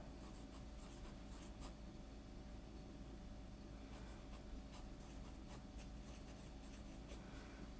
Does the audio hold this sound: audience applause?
no